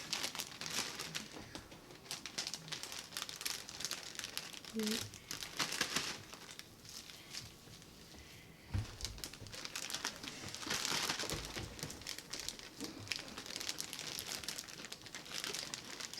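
A small plastic bag is crumpled and crinkled close up for a sustained stretch, with dense rustling that swells and eases in uneven bursts, while a voice talks now and then.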